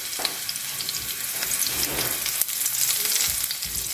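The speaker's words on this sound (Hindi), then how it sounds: "ऑयल यहाँ पर गर्म हो चुका है, इसमें मैं कड़ी पत्ता डाल दूँगी" Hot oil crackles and sizzles as curry leaves are dropped in, a busy spitting hiss with a sharp pop partway through.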